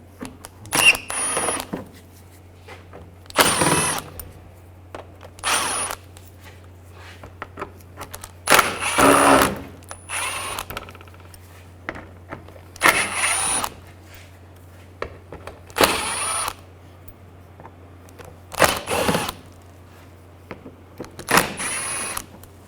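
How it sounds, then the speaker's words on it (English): Short bursts of a power ratchet or driver spinning out bumper screws with a T25 socket on a VW Jetta, roughly eight separate whirring runs, close by, with quiet pauses between them. "we're going to take out these screws right here and all along the front lower of the bumper. Use a T25 socket or adapter."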